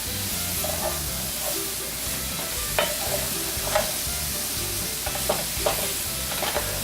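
Bacon and fresh rosemary fry in a pan with a steady, close sizzle, while stirring adds light scrapes and soft clicks every second or so.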